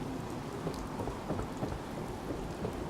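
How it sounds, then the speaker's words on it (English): Steady rain and thunder from the Fallout 4 game world, a dense constant hiss of falling rain with a low rumble underneath, no voices. "Just thinking how wonderful it'd be to get out of this infernal rain"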